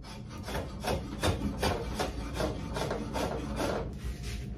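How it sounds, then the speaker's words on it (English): A Two Cherries drawknife pulls shavings from wood in a series of rhythmic rasping strokes, each a short scraping rub. The strokes are close and fairly quiet, with no talk. "certainly good enough to take some nice shavings"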